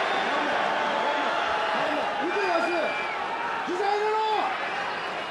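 Restless crowd murmur filling a Pride FC 13 arena during a fight, a steady wash of voices with a few scattered shouts and whoops rising above it.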